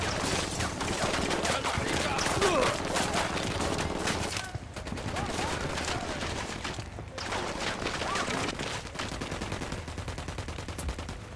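Sustained, dense gunfire as a squad opens fire in the Ghost Recon Wildlands video game, a loud continuous barrage of overlapping shots with a short lull midway.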